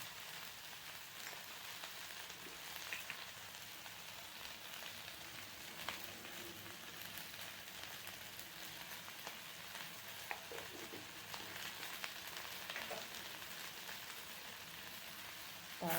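Cumin seeds sizzle softly in a pan while whole spices are dry-roasted, a faint continuous crackling hiss with scattered small pops and no talking.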